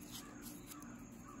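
Distant crows give a few quick caws over a steady low hum outdoors, faint and brief.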